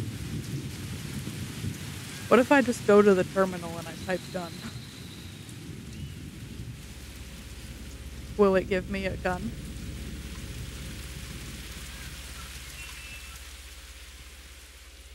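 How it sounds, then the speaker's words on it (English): Steady rain with low rumbling thunder in an indie horror video game runs throughout, while someone speaks briefly twice over the storm. "Sorry for that rain jump scare noise."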